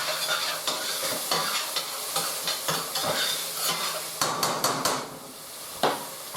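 Basic sweet peppers sautéing in a saute pan, a bright sizzle running throughout, punctuated by repeated scraping and knocking strokes of a utensil against the pan, close and fairly loud with no talk.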